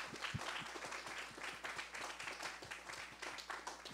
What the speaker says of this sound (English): Please join me in giving a big round of applause to Professor Bostean.